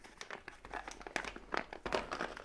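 An opened green tea package being folded shut by hand, giving soft, close crinkling and rustling of the packaging in quick irregular bursts, faint and without talk.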